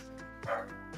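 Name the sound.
dog barking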